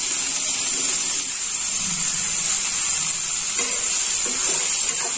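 Vegetables and spices roasting in a pan for South Indian vegetable rava upma make a loud, constant frying hiss with faint stirring beneath it. No one speaks.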